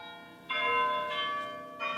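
Bells peal with rich, ringing tones, a few successive strikes blending into a sustained metallic hum.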